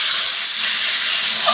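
A whole chicken lands in a hot pot with onions and sizzles hard, a loud, steady, hissing fry with no voices over it.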